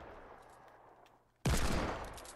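A single loud no-scope gunshot in Fortnite cracks out after a quiet stretch of faint game ambience, its blast and rattling tail filling the remainder of the moment.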